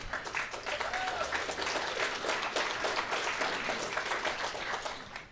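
Shareholders at the CIRI information meeting in Anchorage applaud, a broad, continuous wash of clapping that holds strong for several seconds before tapering at the end.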